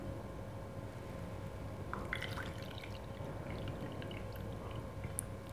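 Water poured and trickling into a bowl of gram flour for boondi batter, a soft splashing and dripping that runs for a few seconds over a quiet background.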